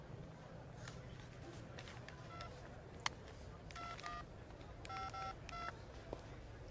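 Telephone keypad tones from a phone at an airport, several short separate beeps and then quick clusters of dialing tones over a murmuring background, with voices faintly nearby.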